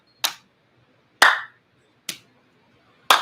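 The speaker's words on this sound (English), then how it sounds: "we're going to clap, slap, clap." Hands clap during a gentle seated chair exercise class for Parkinson's: four sharp, close single claps spaced about a second apart, with silence between and no talking.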